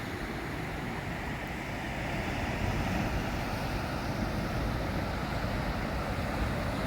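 Big Pacific Ocean waves from a week-old storm pounding Waikiki Beach at Cape Disappointment, Washington, a dense continuous roar of surf that swells slightly louder partway through, with wind and no voices.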